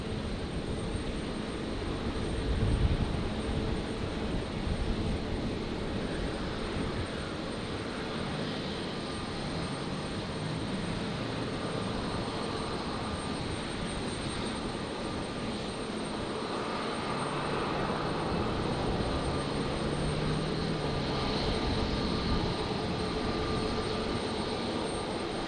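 Virgin Australia jet taking off from runway 19 left at Brisbane Airport at night, a sustained loud engine roar that swells slowly and holds steady for the full length, with no talking.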